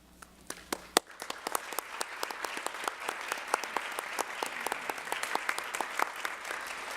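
An audience at a regional educators awards ceremony claps for the nominees on stage, starting with a few scattered claps and swelling after a second into dense, sustained applause.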